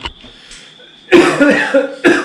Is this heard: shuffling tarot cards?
no